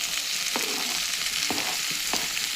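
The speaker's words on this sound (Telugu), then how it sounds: "ఇవన్నీ వేసుకొని బాగా వేగాలండి" Tomato pieces and potatoes frying in a pan for tomato bath, a steady close sizzle broken by a few spaced stirring clicks, with no voices.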